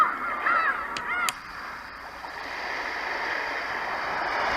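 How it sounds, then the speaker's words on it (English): A roffie N600 white noise machine plays water with seagulls, a few short honking bird calls near the start over a steady, close wash of flowing water that continues alone. "Water and seagulls."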